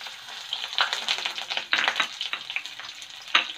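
Onions with red chilli and bay leaf fry in hot oil in a kadhai, giving a close, irregular sizzle and crackle with bursts as they are stirred.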